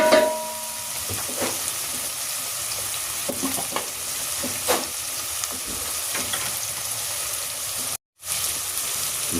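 Chicken sautés in a pan for arroz caldo, giving a steady close sizzle with occasional stirring scrapes and light crackles, broken by a brief cut near the end.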